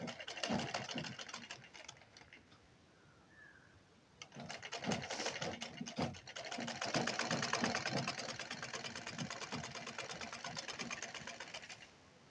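A sewing machine stitches a blouse sleeve in a short run, pauses briefly, then runs again in a longer, steady burst of fast needle clatter.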